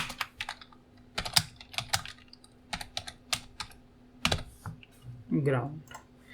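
JavaScript code is typed on a computer keyboard in quick irregular clicks, with a person talking in between.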